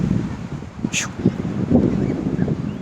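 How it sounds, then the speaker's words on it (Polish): Gusty wind buffets the microphone with a steady low rumble on a Baltic Sea beach in Poland, and a brief higher whoosh cuts through near the start. "Przepraszam od razu za wiatr"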